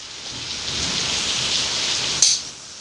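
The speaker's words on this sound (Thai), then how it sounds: "ช่วงนี้ฝนตกอยู่ครับ" Steady rain falls in a dense, hissing wash that lasts nearly three seconds and ends with a sharp click and a sudden drop in level, with no voices.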